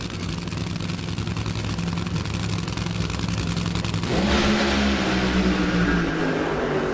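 Nitro Funny Cars making a side-by-side drag racing pull at Brainerd International Raceway, engines roaring continuously and loud, surging harder midway through as the cars pass.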